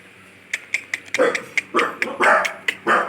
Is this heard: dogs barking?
yes